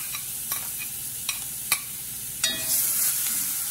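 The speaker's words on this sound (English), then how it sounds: "I'm going to add that to the curry that's being fried." Onion, pimento and chardonnay leaf frying in curry in a pan, with a quiet steady sizzle broken by a few sharp stirring scrapes and clinks, no voices.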